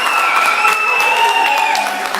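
A wrestling crowd roars and cheers for Silly Billy at a UWC Championship Wrestling event, forming a steady, dense wash of applause and voices that holds at an even loudness throughout.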